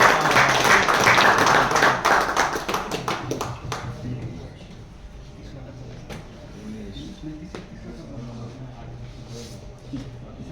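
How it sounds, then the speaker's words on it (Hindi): Crowd clapping at a prize draw event, dense applause for about four seconds that thins out into scattered claps, with a voice speaking over the fading room noise. "पुणे ईस्ट, तालियां बजाओ।"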